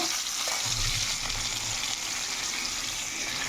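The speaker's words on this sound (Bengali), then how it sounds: "আলুটা ভাজা আলুটাই আবার দিয়ে দিলাম তেলের মধ্যে" Already-fried potato pieces go back into hot oil in a pan, giving a steady, close sizzle and crackle with no talking.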